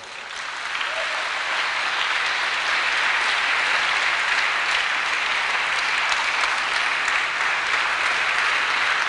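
A large church congregation applauds and cheers its king, a dense, steady wall of clapping that swells within the first second and holds loud and unbroken to the end.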